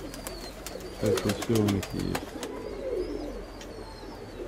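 Pigeons in a dovecote give a few throaty, rolling coos in short bursts, close by, with someone talking over and between them.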